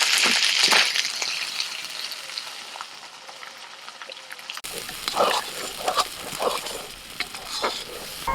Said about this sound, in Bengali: এবার এর মধ্যে আমি কড়াইশুটি বাটাটা দিয়ে দিচ্ছি